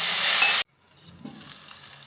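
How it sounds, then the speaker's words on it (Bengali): Hot water poured into white-fried semolina sets off a loud, close hissing burst that cuts off abruptly, leaving near silence and then a soft, faint simmering sizzle. "বেশি গরম জল দিয়ে দেবো।"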